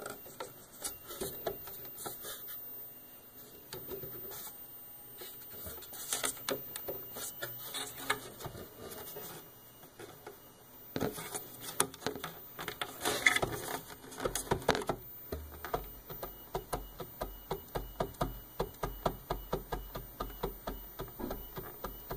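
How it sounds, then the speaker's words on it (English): A 3D printer's build plate with too much play ticks and clicks as it moves down through loose threads, a steady run of sharp, close mechanical clicks over a faint motor hum. "that's what's making the clicking sound as the plate's going down through the threads"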